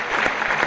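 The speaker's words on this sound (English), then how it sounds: "And she hears some welcome applause" Applause from a tennis stadium crowd at the Westside Tennis Club during a 1971 US Open women's singles second-round match: a dense, steady wash of clapping that stays loud and even throughout the brief moment.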